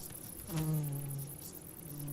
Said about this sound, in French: L'abeille à culotte a une passion exclusive pour le pollen de la chicorée sauvage